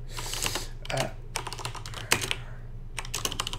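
Rapid keystrokes on a computer keyboard come in several clustered bursts with brief pauses, close and clear, with no voices over them.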